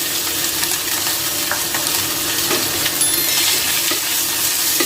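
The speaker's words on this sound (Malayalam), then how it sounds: "അതിലേക്ക് നമുക്ക് ഈ പനീർ ഇട്ട് കൊടുക്കാം. പനീരൊന്ന് ഫ്രൈ ചെയ്യാം." Paneer frying in hot oil in a pan for a curry, a loud, steady, close sizzle with crackling throughout and no pause.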